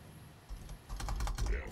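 Rapid computer keyboard mashing during a Star Wars KOTOR speedrun on PC, a quiet stretch then a dense burst of fast clattering keystrokes, close and fairly soft.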